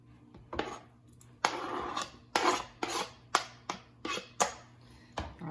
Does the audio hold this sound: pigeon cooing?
no